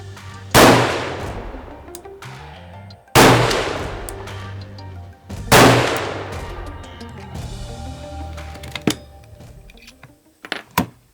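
A 22-250 rifle fires three loud, sharp gunshots about two and a half seconds apart while being sighted in outdoors, each shot followed by a decaying echo, with small clicks near the end.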